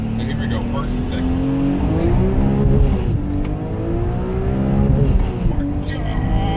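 A supercharged 570 WHP BMW E46 M3 running E85 pulls hard through first and second gear, its engine note climbing in pitch, dropping at the shift, then rising again, loud and close with voices over it.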